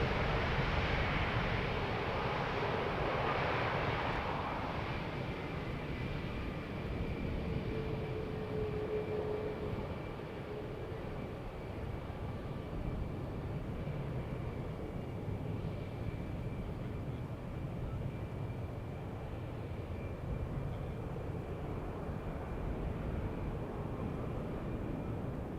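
A Boeing 787 Dreamliner takes off at Schiphol Airport, a broad, distant jet roar rumbling steadily throughout and slowly fading.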